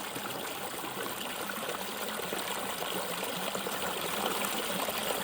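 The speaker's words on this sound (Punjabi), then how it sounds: "ਨਿੱਕਾ ਜਿਹਾ ਛੋਟਾ ਜਿਹਾ ਪਹਾੜ 'ਚੋਂ ਪਾਣੀ ਥੱਲੇ ਡਿੱਗ ਰਿਹਾ ਦੇਖੋ ਕਿੰਨੀ ਆਵਾਜ਼ ਪਿਆਰੀ ਆ" A small waterfall stream spilling down a hillside in a Punjab forest, a steady, even rush of falling water that is close and unbroken, with no voices over it.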